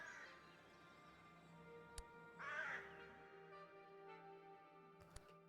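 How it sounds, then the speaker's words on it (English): Loud cawing bird call in the mountain-climbing roguelike video game Insurmountable, a crow-like caw rising clearly above a steady ambient game soundscape, with a couple of short clicks around it. "Loud bird."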